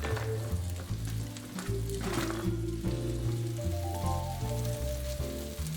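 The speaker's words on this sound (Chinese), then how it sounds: "回到炒锅这边，西葫芦和甜椒下锅，" Zucchini and bell pepper stir-frying over high heat in a wok, a steady close sizzle running the whole time under a layer of background music.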